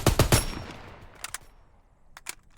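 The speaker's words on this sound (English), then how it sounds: "Next is the Gewehr 43, which is a spam rifle" Gewehr 43 semi-automatic rifle firing in the Call of Duty video game, a quick burst of three close, loud shots followed by two fainter pairs of shots after short pauses.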